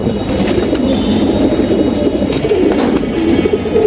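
Racing pigeons, birds flown in tournaments, coo in a steady chorus at a loft, with faint wing flaps and chirps mixed into a dense, continuous background.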